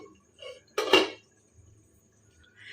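A lid lands on a pot of cooked chicken with one sharp metallic clatter. Quiet kitchen room tone surrounds it, and a faint clink follows.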